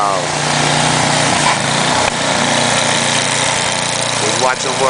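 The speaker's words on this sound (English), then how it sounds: "Now this is what I need. I need a snow blower." A snow blower engine runs loudly and steadily close by during a 2011 snowstorm, a continuous high buzzing drone with slight load changes as it clears snow.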